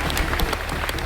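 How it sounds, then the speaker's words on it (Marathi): Steady audience applause during a devotional kirtan gathering in Selu, a dense, continuous clatter of many hands at moderate loudness with no talk over it. "एकदा जोरदार टाळ्या वाजा"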